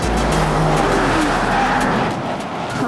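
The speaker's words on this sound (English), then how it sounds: "We are going top speed around this corner." A car is driven at top speed around a corner, its engine roaring loudly and continuously from inside the vehicle with a steady, dense road and wind noise throughout, and no voices.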